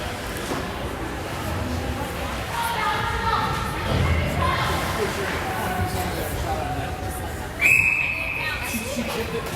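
A short sharp referee's whistle blast rings out near the end over steady crowd murmur and arena noise at a 19U ice hockey game.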